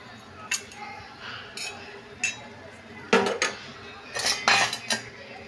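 Dishes and cutlery clink sporadically while pangas fish curry is served, with scattered light metallic taps building to a cluster of sharper clatters near the end.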